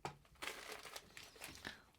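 A small plastic bag holding a tested microchip crinkles close by in short, repeated rustling bursts with no speech.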